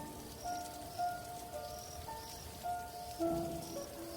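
Rain falls at night around a village house as a soft, steady patter. Faint tonal sounds rise and fade over it, and no one speaks.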